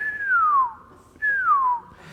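Two long descending whistles, each gliding downward from high to lower pitch, separated by a brief pause, like incoming mortar shells; a bird imitates the sound.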